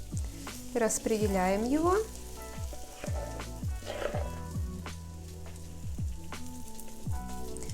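Viennese waffle batter sizzles and crackles in a hot waffle iron, a steady close frying hiss with soft clicks, while someone speaks over it.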